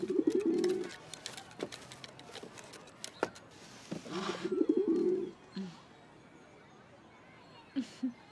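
Pigeons coo in a few low, rounded bursts near the start and middle, with fainter short calls near the end, set against a quiet background.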